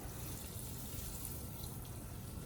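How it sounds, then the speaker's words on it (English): Water trickles steadily onto worms in a home vermicomposting bin, a soft, continuous close splashing with a few brighter drips near the end. "I'm going to give them a little bit of a water"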